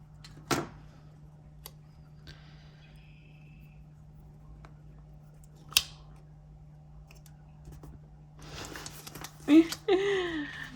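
Scissors snip out paper leaves for a planner, a few sharp separate cuts in an otherwise quiet room, followed by a brief stretch of soft talking.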